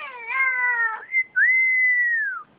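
A parrot gives a loud, whistly imitation of a cat's meow: a wavering tone, a short chirp, then a long sliding note that drops away.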